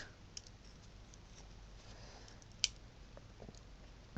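A SOG Flash 2 folding knife's spring-assisted blade flicks open with a single sharp, close click in an otherwise quiet room, followed by a faint small tap near the end.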